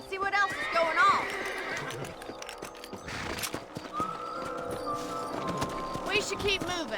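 Several horses whinny and neigh in Red Dead Redemption over a busy game soundscape with hoofbeats and background effects, the calls rising and falling across the clip.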